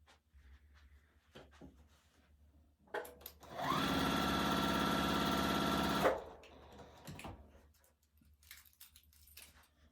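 A sewing machine stitching quilt pieces together runs in a steady fast whir for about three seconds, preceded and followed by faint handling clicks and rustles, close and quiet with no talk.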